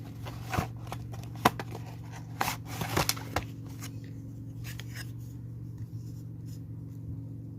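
A package of craft supplies being opened by hand, with scattered crinkles, taps and rustles of packaging in a quiet room. Soft, close handling noises come in short bursts over a steady low hum.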